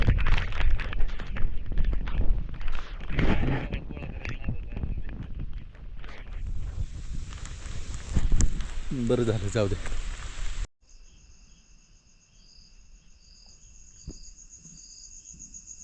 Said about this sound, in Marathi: पाऊस जोरात आला जरा आता.